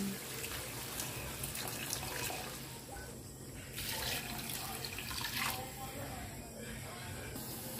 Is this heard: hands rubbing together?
no